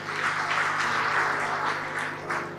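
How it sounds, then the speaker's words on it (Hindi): A congregation at a Resurrection Day church service bursts into applause, a dense, even wash of clapping that holds steady for a couple of seconds at moderate loudness over a faint steady hum. "जोरदार तालियां अपने"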